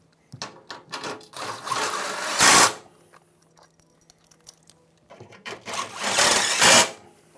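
Impact driver fastening parts of a modular Innovatools sheet metal brake, two loud bursts of rapid hammering rattle each lasting about a second, preceded by small clicks and handling knocks, close by with no speech.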